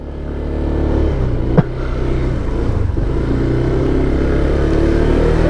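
A 2024 Honda PCX 160 motor scooter engine idles and pulls away steadily nearby, with a brief clunk early on and a constant low drone throughout.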